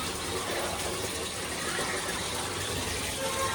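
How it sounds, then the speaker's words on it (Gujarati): A steady stream of tap water runs into a handa pot, filling it with an even, unbroken gushing hiss heard close and alone. "તો અત્યારે નળ આવ્યા છે, પાણી ભરીએ છીએ"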